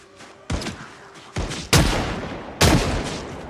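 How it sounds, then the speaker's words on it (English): Gunfire in the multiplayer zombie survival game Project Zomboid while shooting zombies: four loud, sharp shots or short bursts at irregular intervals, each trailing into a sustained rumbling decay, with no talking. "I'm shooting zombies."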